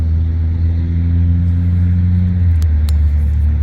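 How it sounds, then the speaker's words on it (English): A loud car engine rumbles steadily nearby with a low droning tone that shifts as the vehicle goes past, with a couple of faint clicks near the end and no speech. "See, that car is loud."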